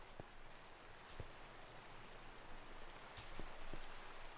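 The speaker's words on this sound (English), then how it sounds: "So we're going to continue under the ugly rain." Steady rain hisses in Minecraft, a constant soft wash of falling drops, fairly faint and uniform, with no talking over it.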